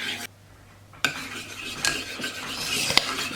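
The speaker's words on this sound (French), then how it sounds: "Je vais mélanger tout ça." A spoon stirs a vegan mixture in a bowl, giving soft scraping and clinking sounds that begin after a brief quiet moment and carry on close by without speech.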